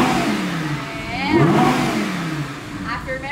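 An Audi R8 V10 on its stock exhaust revs in Sport mode, the engine note climbing and falling in a loud swell near the middle, while people talk over it.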